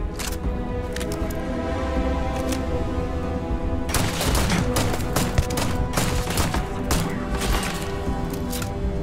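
Rapid gunfire in Starfield, a steady run of sharp shots with a denser, louder burst of cracks in the second half, over a constant game background.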